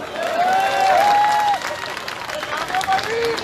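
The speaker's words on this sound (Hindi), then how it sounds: "ठोकोताली" A crowd at a political rally in Chandigarh claps and cheers in a brief burst of applause that fades to scattered noise, with a raised voice heard over it.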